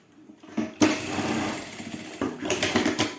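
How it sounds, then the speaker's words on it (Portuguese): A sewing machine stitches along a zipper on a handmade fabric wallet, running in two bursts of steady whirring separated by a short pause, close and fairly loud with no talking. "passa uma costura aqui no zíper"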